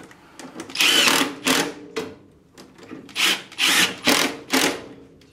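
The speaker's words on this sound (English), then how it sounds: "We'll tighten down our flue collar." A screwdriver driving screws into the flue collar of a Bryant 350AAV furnace while its draft inducer is replaced: repeated close, gritty turning bursts in an uneven rhythm, with brief pauses between them.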